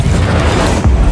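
An Incendio fire spell cast in Hogwarts Legacy, a loud, close whooshing boom of flame that swells at the end of a brief burst, with no voices.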